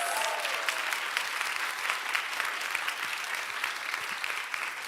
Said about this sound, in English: And then the biggest round of applause for this audience here and at home and work online.